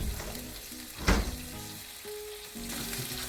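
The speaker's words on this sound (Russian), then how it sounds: "Слышно только нашу шаурму, так называемую." Chicken wrapped in lavash frying in a pan, a steady close sizzle with one louder crackling burst midway and a low continuous hiss throughout.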